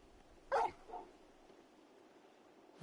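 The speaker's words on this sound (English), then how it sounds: "You're just a big puppy, aren't you?" Torgal, the wolf-dog companion in Final Fantasy 16, gives one short sharp bark followed by a soft whine, then faint quiet until a low sound at the end, with no talk.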